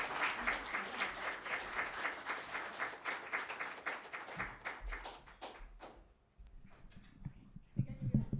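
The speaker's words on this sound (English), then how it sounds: "Let's give him one more round of applause." An open-mic audience at a poetry reading claps after a poem, a brisk, moderately sized round of hand claps that thins out to a few scattered claps, followed by faint murmurs and thumps.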